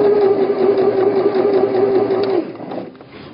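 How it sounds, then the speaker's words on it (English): A sewing machine runs steadily, stitching a straight seam through tote bag fabric with a continuous whirring hum for over two seconds, then stops and leaves faint handling noise. "This is a nice, simple, straight stitch. Allow the machine to pull the material through for you."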